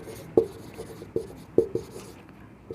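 A formula is written out by hand during a class-10 maths lesson on the quadratic formula, giving a few quiet, sparse scratching strokes and taps at uneven intervals in an otherwise hushed room.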